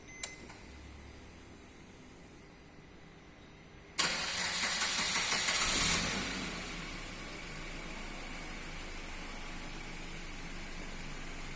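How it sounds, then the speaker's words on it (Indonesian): A Suzuki Ertiga car engine cranks and starts after a faint click, then revs briefly and settles into a steady idle hum, heard alone at close range. "Kita nyalakan mobilnya terlebih dahulu."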